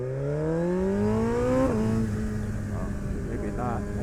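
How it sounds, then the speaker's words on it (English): A car on a night road overtakes a slower vehicle while a motorcycle rides along, its engine rising steadily in pitch, then dropping as it passes, under a constant wash of wind and road noise. "it's just a car is passing a slower vehicle, that's all."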